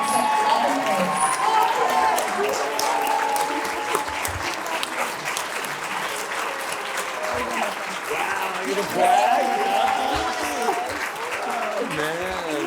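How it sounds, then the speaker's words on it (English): Audience giving a standing ovation to Mr. Chris at a Women's Initiative program, dense sustained applause with some cheering that stays loud for the whole stretch while voices talk over it. "Everyone, please stand and applaud Mr. Chris for 25 years of incredibly hard work"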